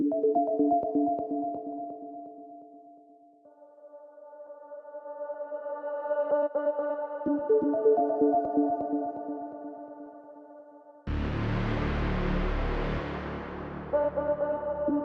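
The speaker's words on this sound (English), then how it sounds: "So I have some of the atmosphere sounds soloed out." Soloed atmospheric ear candy layers from a beat, low-pass filtered and drenched in reverb: sustained tonal pads shifting in steps, joined near the end by a dense, louder noisy swell, with no voices.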